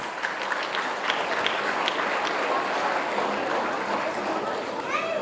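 An audience at a school annual day event gives steady, moderately loud applause with crowd chatter mixed in, continuing evenly throughout.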